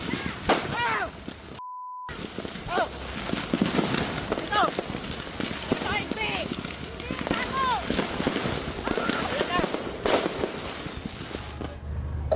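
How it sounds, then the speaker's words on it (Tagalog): Fireworks go off during a fire in a row of fireworks stores, scattered bangs and crackles popping irregularly throughout, with a brief beep early on and voices in the background. "pagsabog ng sari-saring fireworks"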